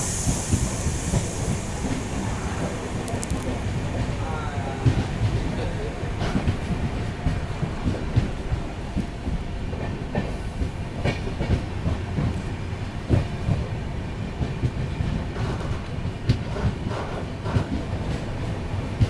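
A passenger train at Kuppam railway station in Chittoor district, Andhra Pradesh, rumbling steadily with clattering wheels and scattered clanks, close and continuous, with faint voices in the background.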